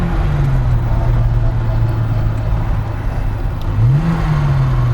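A restored classic car's engine hums at a steady idle, then revs up briefly near the end, loud and close, with no talking.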